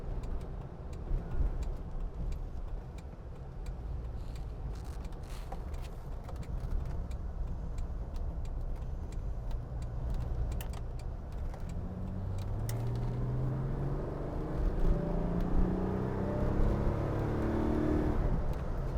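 Jaguar XJ6 Series 2 car engine heard from inside as it drives and accelerates, with a steady low drone that rises in pitch toward the end as the revs climb.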